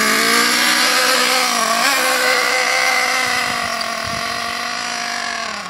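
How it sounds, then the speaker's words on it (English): An Ansmann Virus 2.0 BigBlock RC car engine drones steadily on its first slow drive after run-in, a loud, buzzing, high whine that holds a fairly even pitch and fades slightly toward the end. "we're going to go for its first little drive"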